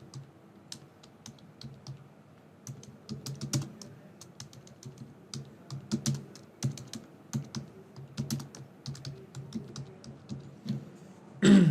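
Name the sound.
typing a message on a computer keyboard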